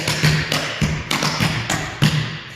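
Sharp clogging dance taps strike a hard floor in a quick, uneven rhythm, with heavier stomps mixed among lighter taps, close and fairly loud.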